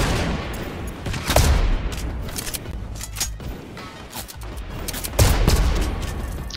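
Assault rifle fire crackles in a shooter video game: loud, rapid bursts come in several clusters with brief pauses between them.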